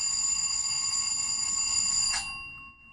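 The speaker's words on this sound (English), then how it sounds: "That's in the manual as 27 here, which is sort of a more warning alarm bell than function 26." A Rapido Metra F40PHM model locomotive's LokSound v5 decoder sounds its warning alarm bell, a steady high electronic ringing that cuts off abruptly and leaves a brief fading tail.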